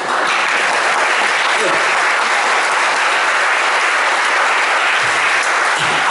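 Participants at a retreat workshop clap together in a loud, sustained round of applause that stays steady and dense for the whole stretch.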